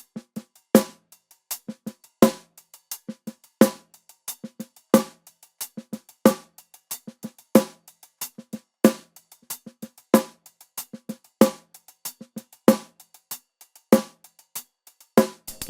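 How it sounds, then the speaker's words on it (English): Drum groove with soft ghost notes between sharp rim shots on beats 2 and 4, played alone at a steady, even tempo with crisp, close transients and no voices. "Next step is to add a rim shot on the 2 and the 4."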